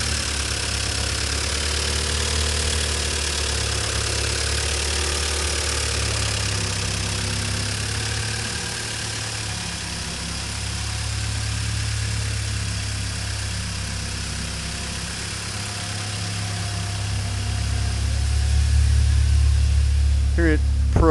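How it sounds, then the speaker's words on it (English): A Nissan 240SX car engine idles with a steady low rumble and faint ticking from the valve train, swelling slightly near the end, with some talk mixed in. "Got a little bit of noise from the valve train."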